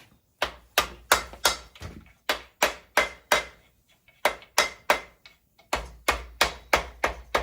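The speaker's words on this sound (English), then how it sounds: "By the way, this is a rubber hammer." Steady series of sharp, loud rubber hammer taps on 302 engine parts during a rebuild, with a rubbery thud, struck in quick bursts with brief pauses between groups, up close and alone.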